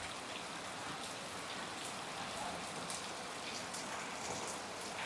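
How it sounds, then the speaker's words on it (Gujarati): Heavy rain pours down in Botad village, Gujarat, a dense, even hiss of downpour held steady and loud throughout, with no voices. "મસ્ત જોરદાર વરસાદ ચાલુ થઈ ગયા મિત્રો છે"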